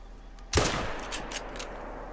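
A single rifle shot at a mountain goat in a hunting video game cracks out sharply, then a rolling echo fades over the next second or so with faint ambient tones behind it.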